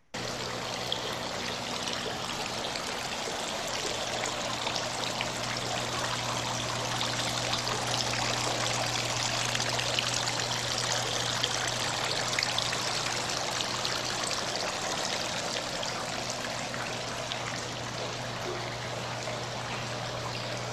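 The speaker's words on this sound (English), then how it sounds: "you can actually hear the sound of the water" Water flowing in an art installation: a steady, continuous stream of trickling and rushing water, with a faint low hum beneath, unchanging throughout and free of speech.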